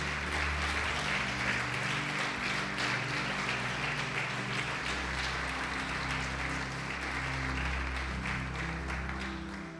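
A church congregation applauds after a pastor's prompt, a dense, steady wash of many hands clapping that fills the space evenly at full loudness for about ten seconds, easing slightly only at the very end.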